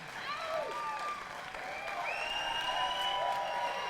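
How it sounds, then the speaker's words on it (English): Applause and cheering from a crowd with whistles rising above it as dance competition stars parade out at the Dancing with the Pagosa Stars 2024 event, steady and fairly full, with voices talking through it. "Big round of applause."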